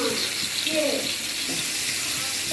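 Fish frying in a pan on a kitchen stove, a steady close hiss and sizzle running unbroken throughout.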